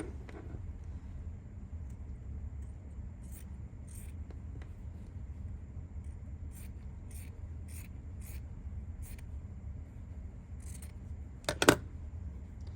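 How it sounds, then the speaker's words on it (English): Scissors cut a paper template for a plush sewing project, a series of short crisp snips spaced irregularly over a low steady room hum, with a sharper louder cut near the end and no talking. "So we cut it out."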